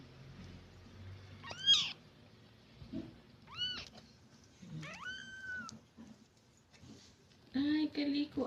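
A calico cat meows several times at fairly close range, with short rising and falling cries spaced a few seconds apart and a longer, louder one near the end, while a person talks quietly in between.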